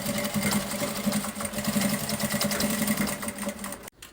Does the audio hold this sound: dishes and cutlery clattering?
no